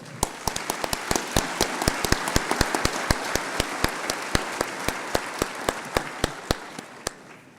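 Applause at a 2018 scholarship reception honoring recipients: sparse, evenly spaced individual claps from a small group, distinct sharp strikes throughout, steady and moderately near.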